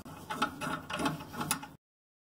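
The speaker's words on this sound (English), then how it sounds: "put the bolt on there and just tighten it up" A bolt being tightened on a new toilet handle arm gives a short burst of close ratcheting, mechanical clicking lasting under two seconds, alone with no talk.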